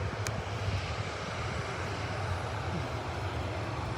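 An Airbus A321 airliner at Manchester Airport produces a steady, broad jet engine roar, distant yet loud and continuous, heard on its own.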